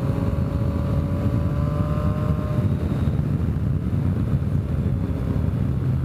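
A triple-engine motorcycle riding on the road, a continuous low engine drone with heavy wind rush, steady and close, with a faint rising whine early on and no talking.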